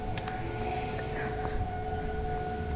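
Tornado warning sirens sound during a tornadic storm in May 2011, as a faint, steady, far-off wailing tone held over low outdoor rumble.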